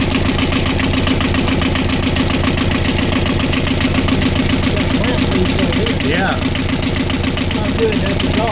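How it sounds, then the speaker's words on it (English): A Universal 5411 marine diesel engine idles with a loud, steady, rapid knocking rhythm that holds evenly throughout, with low voices occasionally audible over it. "The engine sounds okay."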